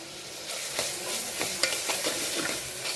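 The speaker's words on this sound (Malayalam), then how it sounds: "നമുക്ക് നന്നായിട്ടൊന്ന് വഴറ്റാം." Crushed chili is sautéed and stirred in a hot pan, giving a steady close sizzle broken by repeated scraping and clattering stirs, with no talk.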